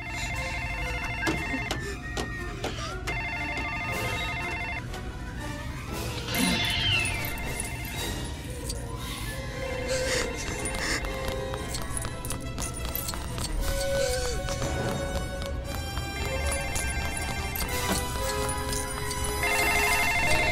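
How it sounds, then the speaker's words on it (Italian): Phones ringing inside a LEGO Jurassic World video game scene, steady repeated electronic rings over busy game music and effects, with brief voices mixed in. "Signor Hammond, i telefoni funzionano."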